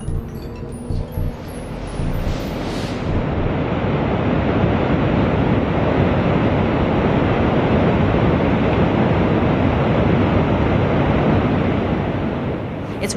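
Roaring whitewater at Lava Falls, a big and much-respected rapid on a long river run, thundering as a loud, steady broadband rush close by with wind buffeting, after a brief quieter start.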